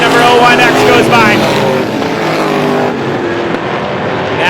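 350 supermodified race cars roaring around a speedway oval, loud high-revving engines sweeping past with pitch shifting as they pass, with a commentator talking over the noise.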